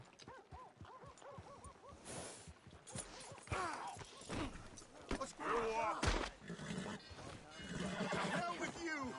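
A horse in the game Red Dead Redemption 2 neighs and snorts several times over clopping hooves and other game sounds, fairly faint, with brief voices mixed in.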